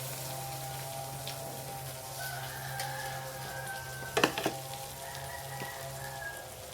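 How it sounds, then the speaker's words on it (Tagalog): Flour-coated bangus (milkfish) fries in hot oil with a steady, soft sizzle, while a rooster clucks and crows nearby in the background. "Trinay ko po sa pagprito ng bangus, yung lagyan ng harina."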